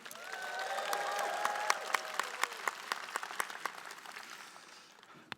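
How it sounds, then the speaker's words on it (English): A crowd of over 3,000 at a 2016 presidential election forum applauds, with whoops rising over the clapping before the applause thins to a few scattered sharp claps. "Round of applause."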